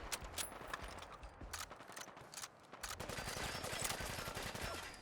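Rapid bursts of gunfire from a gun in Fallout 4: London, sharp repeated cracks at first giving way to a dense, fast automatic stream, fairly faint and without talk.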